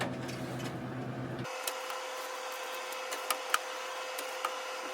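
A loud freeze dryer vacuum pump runs steadily, a constant drone with a strong tone that stays unbroken, joined by a few faint clicks and taps.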